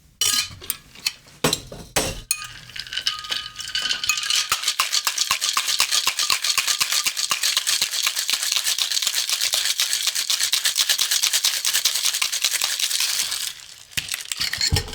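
Cocktail shaker full of ice, a few loose clinks and knocks, then a long fast rhythmic rattling shake, close and loud, slowing to a stop near the end.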